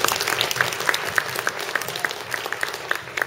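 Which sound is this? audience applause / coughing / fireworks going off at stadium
audience applause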